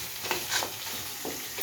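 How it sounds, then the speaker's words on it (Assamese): Meat frying in a pan gives a soft sizzle with a few scraping stirs, close and fairly quiet, with no voices. "এয়া পূৰা মাংস ভাজি আছে"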